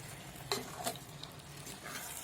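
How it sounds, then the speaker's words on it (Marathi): Fish is stirred in a clay pot over the heat, with a soft sizzle underneath and a few light scraping strokes, one louder knock near the start, all close and fairly quiet. "आपण मासे सर्व हलवून घेऊया."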